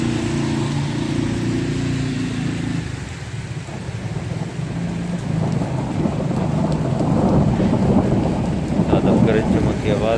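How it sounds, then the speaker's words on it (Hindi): Thunder rolls from the clouds during a heavy hailstorm in Sheen Bagh, Attock, with low rumbling swelling over a steady, dense patter of falling hail and rain and a faint vehicle hum early on. "गरज चमक की आवाज़ भी सुन रहे हैं बादलों की।"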